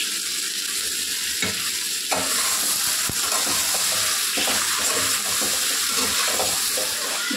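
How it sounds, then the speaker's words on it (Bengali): Ridge gourd curry stir-fried in a pan with turmeric and salt, with a loud, steady sizzle, spatula scrapes and stirring knocks throughout as water from the gourd cooks off. "অনেকক্ষণ কষালাম, আমি প্রায় 10-15 মিনিট তরকারিটা কষে নিলাম।"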